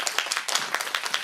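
An audience at a sustainability talk claps in a brief burst of quick, irregular hand claps, fairly close and steady.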